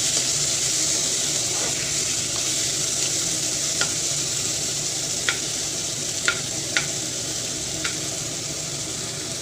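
Large tomatoes fry in a pan with a steady, close sizzle, cooked for a fish dish with black yam leaves. A few sharp clicks of a stirring utensil against the pan cut through the hiss.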